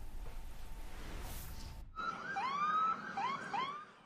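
Police car and ambulance sirens outside a school in Nashville, entering after a couple of seconds of dull background noise with a rising wail and several sharp upward yelps, loud and close.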